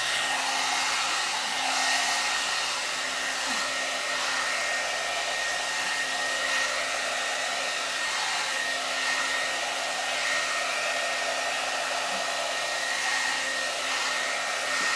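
A SUTRA blowout brush hair dryer runs continuously with a steady whooshing roar and a faint whine, unbroken for the whole stretch.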